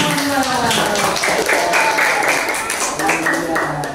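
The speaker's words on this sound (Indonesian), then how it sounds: "Tepuk tangan." Classroom students clap together during a lesson, a dense burst of hand claps that carries on steadily for a few seconds at close range while voices talk over it.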